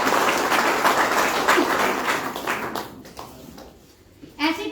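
Audience clapping at a business plan presentation after a neem and clove toothpaste pitch: a burst of crowd applause that fades out, followed by a brief voice at the end.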